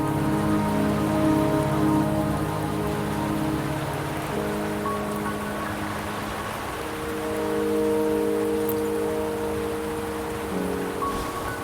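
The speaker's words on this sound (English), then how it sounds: "Don't worry, the rain won't last much longer." Steady rain pours down in the video game Wuthering Waves while the party travels toward Mount Firmament, a dense continuous patter with soft droplet ticks under sustained tonal music, loud and even throughout with no talk.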